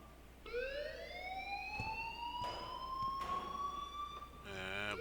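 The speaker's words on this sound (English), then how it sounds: "please turn off that alarm since that's your job" An electronic alarm in the video game Life is Strange wails continuously as a steady rising tone, loud over a faint background, with a brief warbling change near the end.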